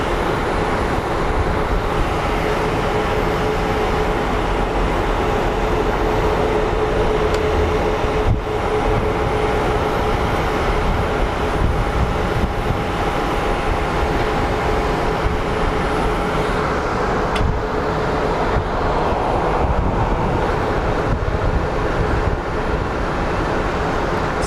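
A Southwest Airlines jet departs Phoenix Sky Harbor, and its engines make a steady, continuous broadband roar that holds at an even loudness from start to finish with no talking.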